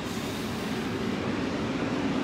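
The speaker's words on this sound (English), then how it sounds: "Let's take a big deep breath while the school bus comes by." A school bus passes close by on a road, giving a loud, steady broadband roar with low engine rumble that holds for the whole stretch without any talk.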